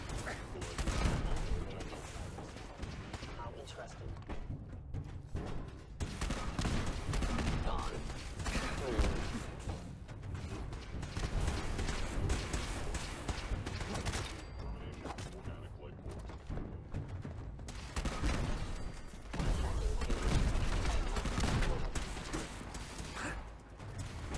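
Continuous Fallout 4 gunfire and heavy cannon blasts rattle in dense volleys, with booming impacts and a voice occasionally heard underneath.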